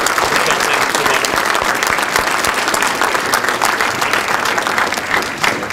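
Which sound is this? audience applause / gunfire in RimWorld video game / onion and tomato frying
audience applause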